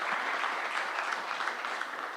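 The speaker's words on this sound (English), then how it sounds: "Big round of applause for that" A crowd at a real estate industry event claps in a brief, soft, steady burst of applause with no voices standing out, heard from some distance.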